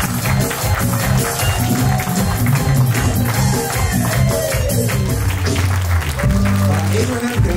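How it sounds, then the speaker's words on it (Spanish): Party guests at a Mexican quinceañera clap in a loud, sustained burst of applause, with dense tapping that carries on over music and crowd noise for several seconds. "Que se escuchen los aplausos."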